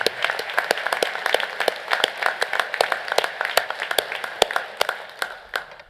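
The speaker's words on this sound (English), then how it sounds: "Yeah, that's worthy of applause." A commencement ceremony audience applauds with sharp, distinct hand claps spread through a large room, the sound fairly sparse and uneven and easing off toward the end.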